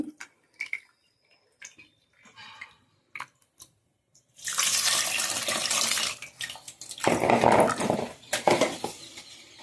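Soaked tamarind extract poured into a pot, a loud liquid splashing and trickling that starts midway and swells in two bursts after scattered faint clinks and taps; a dog barks near the start.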